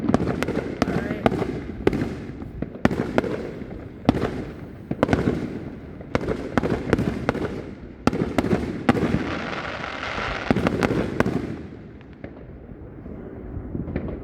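Fourth of July fireworks explode in a long run of loud, sharp booms and crackling bursts, some in quick clusters and others spaced apart, with people talking between the blasts.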